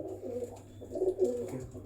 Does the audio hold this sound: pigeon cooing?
yes